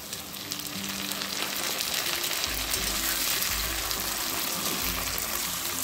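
Chopped onion sizzles and fries steadily in hot oil for Bengali-style mutton, a loud, continuous crackling hiss close by with occasional low stirring scrapes underneath.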